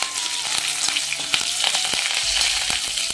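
Curry leaves, along with sliced chilies and small onions, hit hot oil in a Kerala kitchen, giving a loud, continuous crackling sizzle with sharp pops and stirring clatter throughout.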